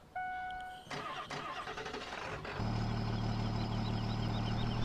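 Pickup truck engine in Farming Simulator 2017 cranks and starts, then settles into a steady loud low idle after a few clicks and clunks.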